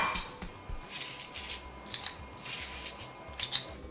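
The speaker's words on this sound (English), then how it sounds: "time to scoop this out. I'm using an ice cream scoop." An ice cream scoop digs into watermelon flesh close up: soft wet scrapes and crisp crunchy bursts, several quick strokes at a quiet level.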